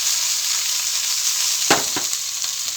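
Red chillies fry in a pan with a loud, continuous sizzle, broken by a couple of brief stirring scrapes near the end.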